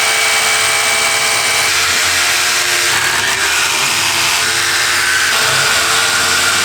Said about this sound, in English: I need to get some holes drilled right here so that way we can screw this cabinet to the wall